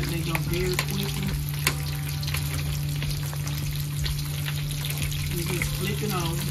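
Chicken taquitos fry in oil in a skillet with a steady, close crackling sizzle that holds through the whole stretch, with a low electrical hum underneath and faint sounds of movement.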